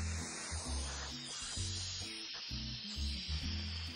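Food fries in hot oil in a home kitchen, a steady dry sizzle and spatter running continuously, with a rhythmic low thumping underneath throughout; no one speaks.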